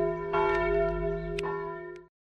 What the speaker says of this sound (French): on a toute la journée les bruits des cloches